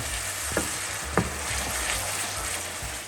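Onions cook down in a pan for chicken jalfrezi, an even, close sizzle with a couple of sharp stirring knocks against the pan and no voices.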